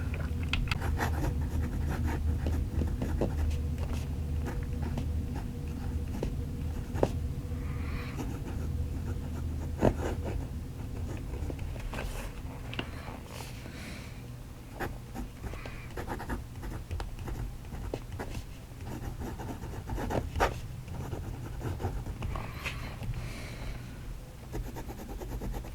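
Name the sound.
fountain pen writing on paper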